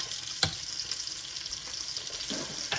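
Dal heating in a pan on the stove gives a steady, soft sizzle, with a few clinks and scrapes of stirring, close by.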